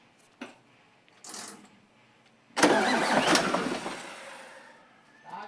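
An 8M21 diesel engine fresh from a top overhaul starts after fuel bleeding. A few short cranking bursts come first, then it catches into a loud, rough idle that slowly fades. It is close, with no speech.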